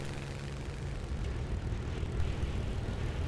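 A Spitfire's piston engine in a realistic-battle flight game drones steadily during a landing approach, a loud continuous low roar that swells slightly toward the end, with no talking.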